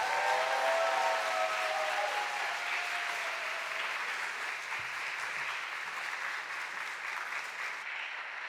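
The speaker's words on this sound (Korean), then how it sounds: "우리 박수로 맞이하겠습니다" Applause from a church congregation during a Sunday morning service, a sustained, steady wash of clapping that stays even and fairly loud throughout, with a brief tonal trace near the start.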